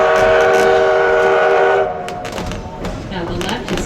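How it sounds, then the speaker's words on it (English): A 1919 Baldwin steam locomotive, converted from coal to oil firing and pulling four cars, sounds a loud steady whistle for about two seconds, then settles into a lower rolling rumble with scattered mechanical clanks. "Number 7 is a 1919 Baldwin locomotive, originally coal-fired, converted oil"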